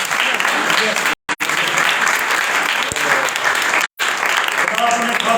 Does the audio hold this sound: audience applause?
yes